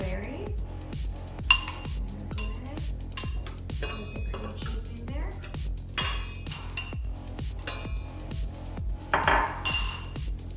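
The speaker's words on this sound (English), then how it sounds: "Go ahead and mix up our strawberries" A spoon stirs blended strawberry puree in a bowl, clinking and scraping against the dish in a steady rhythm, with a few louder knocks and occasional talking.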